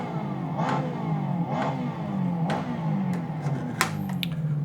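A racing car engine from a sim racing game plays through the BenQ MOBIUZ EX3415R monitor's built-in speakers, revving up and down in repeated swells with sharp clicks and a snap near the end. It is heard alone, with no talk.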